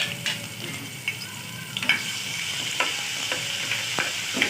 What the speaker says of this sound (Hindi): तो सबसे पहले इसमें हम डालते हैं बिस्मिल्लाह लहसुन अदरक का पेस्ट।